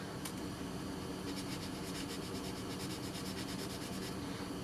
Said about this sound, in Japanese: スポンジヤスリの3000番。 タミヤのスポンジヤスリですね。